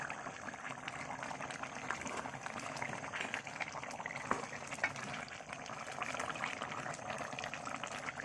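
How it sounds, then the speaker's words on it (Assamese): Assamese chicken curry boiling in a covered pot, a quiet continuous bubbling and churning with small pops throughout, close by and without speech. "এতিয়া ধুনীয়াকৈ উতল আহি গৈছে"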